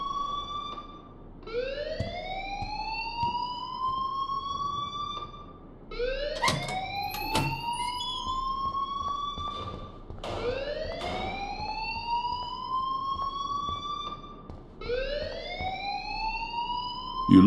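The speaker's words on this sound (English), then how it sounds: "please turn off that alarm since that's your job" A school alarm rings inside the video game Life is Strange: a loud rising electronic whoop that sweeps upward and repeats about every four seconds, four cycles in a row, with no voices over it.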